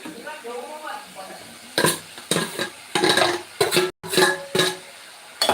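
Tomatoes are sautéed in a pan for potato kurma, with a series of sharp, uneven scraping and stirring strokes over a faint sizzle. A voice murmurs briefly at the start.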